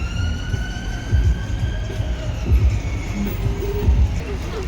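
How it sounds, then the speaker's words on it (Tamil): Ambulance siren passing along a street in Southall, West London, its wailing tones sweeping over steady traffic rumble, moderately loud and slowly fading. "ஆம்புலன்ஸ் போகுது."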